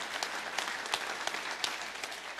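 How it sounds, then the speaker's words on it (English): Audience applause at a speaking event at the Red Pill Expo, a steady dense wash of clapping from a crowd, fairly faint and distant, with no voices over it. "Another round of applause for Edward Goodliff."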